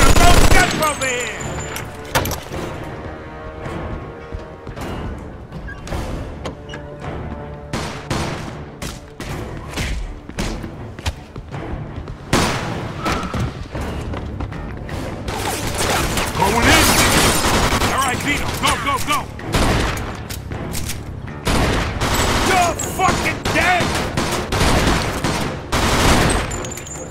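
Gunfire in the video game Mafia II: repeated bursts of shots and thuds over a full stretch, loud and dense, with characters' voices talking and shouting between the volleys.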